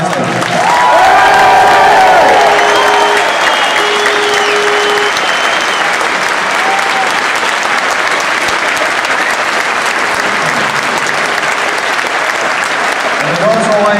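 Large stadium crowd applauds the players at the end of a football season, a loud, dense roar of clapping and cheering with scattered shouts and whistles, easing slightly but sustained throughout.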